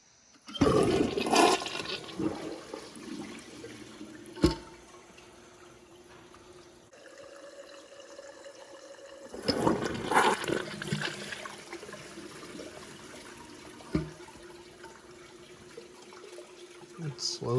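A 2015 American Standard Champion 4 Max toilet flushes in repeated rushes of water, with a strong siphoning surge and sharp knocks between them, while someone talks quietly.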